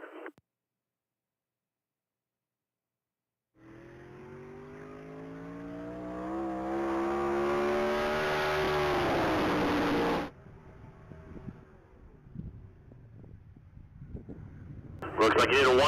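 Tom Hurley's 1,100 horsepower 1957 Chevy Bel Air makes a top-speed mile run at the Texas Mile, its engine rising in pitch and loudness as it accelerates, then cutting off sharply, heard at a distance over crowd noise.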